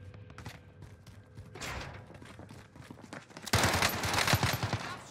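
Gunfire in the shooter game Warzone: bursts of rapid shots, sparse at first, then a dense loud volley of shotgun-like blasts in the last seconds.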